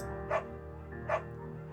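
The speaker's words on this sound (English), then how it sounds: "You pick up the beagle and she names him Bucket." A beagle barks in the Firewatch video game: two short, sharp barks about a second apart, clear and close over a steady low background hum.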